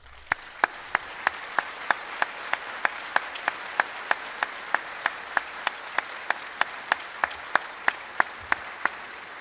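Audience applause at the Centre College commencement, a steady wash of clapping with a regular series of sharp, evenly spaced claps standing out throughout.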